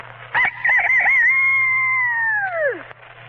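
A voice imitates a rooster with one loud, drawn-out crow, warbling at the start and sliding down at the end, close and alone over a faint hum, on an old-time radio broadcast.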